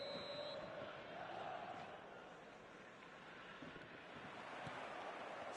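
Stadium crowd in an eFootball 2026 match, a broad steady roar of many voices swelling and easing across the stands with a faint whistle near the start, washing continuously with no break.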